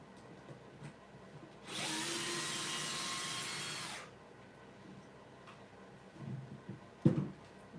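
A power drill spins out screws from a wood lathe faceplate in one loud burst of about two seconds, followed by quiet workshop handling noises and a thump.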